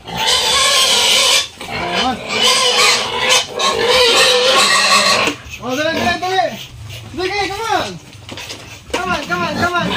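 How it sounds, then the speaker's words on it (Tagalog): Pigs squeal and grunt loudly and repeatedly at close range, shrill rising cries overlapping in a noisy, chaotic chorus. "Ingay ng baboy ko"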